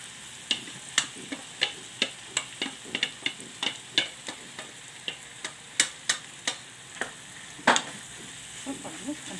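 Fava beans frying in hot oil in a pan, a soft steady sizzle punctuated by regular light clicks and taps as they are stirred, close and fairly quiet.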